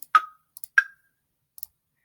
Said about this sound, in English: It can be block sounding.